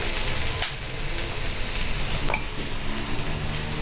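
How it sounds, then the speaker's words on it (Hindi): Boiled chickpeas fried in a pan for shahi chany, giving a steady close sizzle with two brief stir or clatter accents partway through. "उसके बाद इसमें चने डालेंगे बॉयल किए हुए हमारे।"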